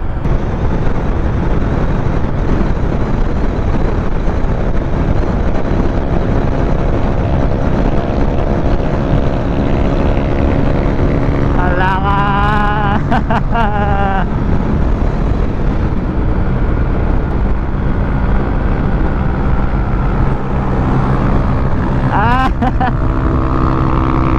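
Honda Click 125 scooter on a road test ride, with a steady engine drone buried under heavy wind rush for the whole stretch and brief rising whines from passing vehicles partway through.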